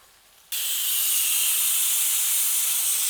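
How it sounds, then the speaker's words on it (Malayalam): Steam hisses loudly and steadily from a pressure cooker on the stove while avial cooks in a home kitchen, a bright, continuous rush that bursts on suddenly and holds at full strength. "2 ഫിസിലടിച്ച് നമുക്ക് കുക്കർ ഓഫ് ചെയ്യാം"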